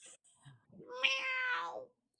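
A person imitates a cat, giving one drawn-out, wavering meow after a few soft breathy sounds, close and clear against silence.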